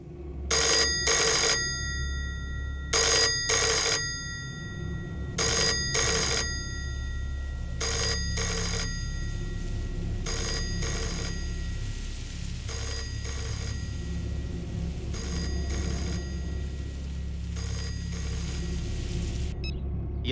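A telephone rings in repeated double bursts during a tense police scene in a Tamil film, the electronic bell tone loud and steady over a low background rumble, with no talk.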